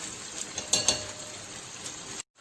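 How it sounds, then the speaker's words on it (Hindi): Onions fry in oil, browning in a pan with a soft, steady sizzle broken by a couple of light scraping clicks, before cutting off abruptly into silence. "इस प्याज को अब मैं मीडियम ब्राउन करूंगी।"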